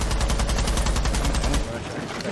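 Rapid automatic gunfire in Rainbow Six Siege crackles in a fast, even burst of close shots for about a second and a half, then cuts off into quieter game noise.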